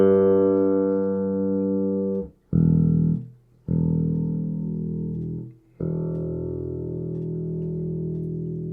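Sustained bass notes from a Hohner B2A headless guitar with active electronics, ringing loud and close while the bass and treble tone are adjusted, broken by a few short gaps between held notes.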